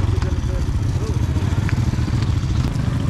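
A motorcycle-powered umbrella vehicle used as public transport in a Philippine town putters with a steady low engine chug, heard close under ongoing talk.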